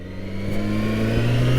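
Yamaha FZ6 motorcycle with about 35,000 miles idling and revving in the early-morning dark, a steady low engine drone with a rising tone near the end, close and continuous with no talk.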